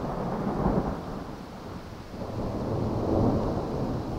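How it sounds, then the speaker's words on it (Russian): A thunderstorm breaks over a mountain area with heavy rumbling thunder rolling through steady rain, two louder swells of thunder rising and fading across the span, fairly close and full, with no voices. "Началась гроза."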